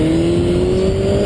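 A sport motorcycle engine revs up for a wheelie, holding a loud, steady tone close by that climbs slowly in pitch.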